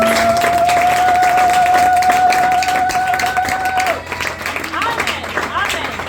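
A church congregation claps and cheers, with a long sustained shout or ululation over the applause before it breaks into mixed crowd noise.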